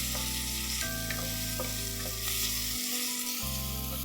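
Ginger garlic paste frying in a pan alongside golden-browned onions for an Agri mutton masala, a steady sizzle under continuous background music.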